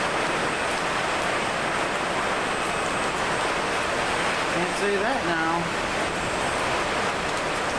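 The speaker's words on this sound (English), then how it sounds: "It's raining pretty hard in here." Heavy rain pours down steadily inside a leaking barn during a storm, a dense, constant hiss throughout, with someone speaking briefly over it.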